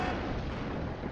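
Explosions in the mech combat video game Mech Engineer, a faint, continuous low rumbling roar of blasts with no clear separate hits.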